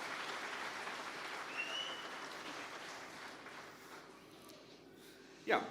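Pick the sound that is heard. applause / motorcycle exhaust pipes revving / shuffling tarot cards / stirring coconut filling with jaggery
applause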